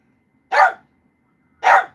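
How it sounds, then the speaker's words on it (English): A dog gives two loud, sharp barks about a second apart, close by, with quiet between them. "I gotta let my dog out, and he's going crazy."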